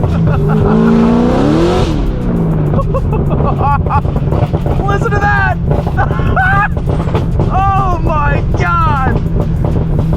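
E85-powered 900 hp Corvette ZR1 accelerating hard: a loud, rough engine roar climbs in pitch through repeated gear pulls, heavy with wind buffeting, while people inside shout and talk over it.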